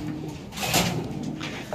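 A pigeon gives a short, soft coo, close by, at a pigeon sale where the birds are being shown to buyers.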